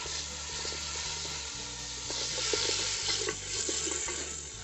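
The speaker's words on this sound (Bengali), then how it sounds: "এবারে আমরা অল্প অল্প করে জল দিয়ে দিয়ে কষিয়ে নেব।" Moong dal khichuri being stirred and fried in a pan as water is added, a soft steady sizzle with scraping strokes of a spoon, fairly quiet and close.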